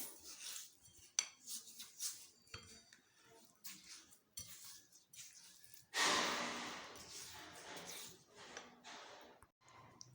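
Semolina cake batter with sugar and oil is mixed by hand in a bowl, giving soft, irregular scraping and clinking strokes near and fairly quiet, with a louder burst of vigorous stirring midway.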